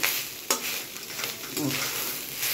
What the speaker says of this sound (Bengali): আমার একটু নাড়তে দেরি হয়ে গেল, তলায় একটু ধরে নিচ্ছিল এটা।